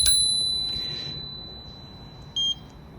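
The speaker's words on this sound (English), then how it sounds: "nice little bell." A bell on a Swagtron Swagger 5 electric scooter rings with a bright metallic ding at the start that rings out and slowly fades, followed by a short second ping near the end, with no talk.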